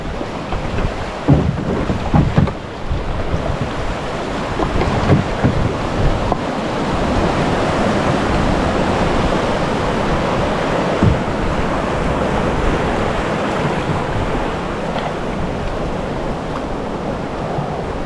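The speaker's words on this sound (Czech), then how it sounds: "Pár vlnek." Small waves splash and lap around a canoe on the Hron river, a steady close water wash with wind buffeting the microphone and a few sharper splashes early on, no voices.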